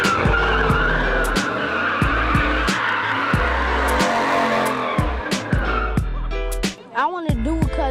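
A Chevrolet Camaro doing a burnout, tires squealing loudly and continuously over a roaring engine with repeated revving surges, close and dominant, with a short voice near the end.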